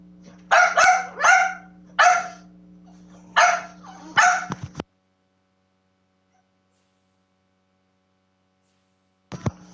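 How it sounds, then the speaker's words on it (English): Several dogs barking in a rapid burst of loud, close barks over a low steady hum, then a long silence before one short bark near the end. "I am so sorry that these dogs are going off."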